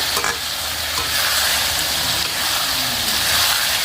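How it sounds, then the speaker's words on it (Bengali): Meat frying with spices in plenty of oil while being stirred makes a loud, dense sizzle that never lets up, with faint scraping of the spoon underneath and no speech. "এই যে এখন মাংসটা ভালো করে ভেজে কষিয়ে নিচ্ছি মশলাটার সাথে"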